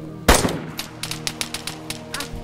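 Gunfire in DayZ Standalone: one loud close shot followed by a rapid string of sharper, quieter bursts at a steady pace, no voices present.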